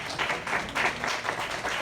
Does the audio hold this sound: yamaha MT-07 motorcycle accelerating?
no